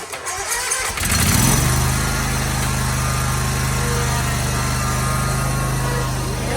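A zero-turn mower engine cranks for about a second, catches, and then settles into a steady, loud, close-up running drone with no voices over it.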